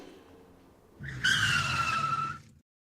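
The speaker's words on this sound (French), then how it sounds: "Freine, demi-tour." A car brakes hard and skids into a U-turn, its tires squealing in one loud, close screech of about a second and a half over the engine rumble, after which the sound cuts off abruptly.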